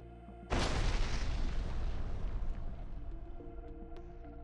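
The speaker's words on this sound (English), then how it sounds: "The drone's impact caused a powerful explosion." A single powerful explosion bursts suddenly, loud and broad, then rumbles and fades slowly over several seconds.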